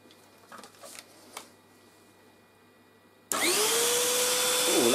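Beaumark BM222 V600 TinyTurbo handheld vacuum cleaner switching on partway through, a sudden loud steady motor whine with a rising tone that holds after a few quiet handling clicks.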